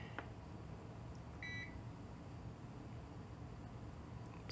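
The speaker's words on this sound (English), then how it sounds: "Thing's beeping at me though because it lost power" An uninterruptible power supply beeps after losing mains power, a short faint electronic tone heard once against a quiet room hum, with a few soft clicks around it.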